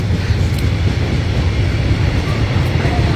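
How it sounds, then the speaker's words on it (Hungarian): A train passes somewhere out of sight, heard as a steady low rumble that holds evenly throughout with no talking. "Amúgy most megy a vonat pont."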